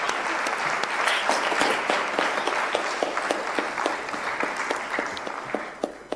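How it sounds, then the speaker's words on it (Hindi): Audience at a state government women's awareness honours ceremony in Bhopal applauding to welcome the honorees, sustained even clapping from a large crowd that fades slightly toward the end. "तालियां बजा के स्वागत कीजिए।"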